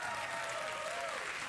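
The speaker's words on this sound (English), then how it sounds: "I really hate it when people applaud my age" A late-night TV studio audience breaks into steady, dense applause, a brief burst of clapping heard fairly quietly with no talk over it.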